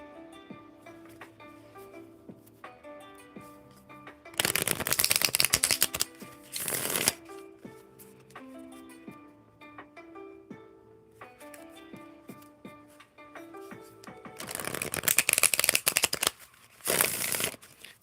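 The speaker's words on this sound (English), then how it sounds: "I'ma shuffle up again." Tarot cards are shuffled in two loud riffling bursts, each followed by a sharper snap, with soft musical notes playing quietly underneath throughout.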